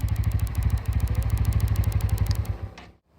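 A Bajaj Pulsar N160 motorcycle with an oil-cooled engine runs close by, giving a steady, fast pulsing beat with clattery mechanical texture for about two and a half seconds before the sound cuts off abruptly.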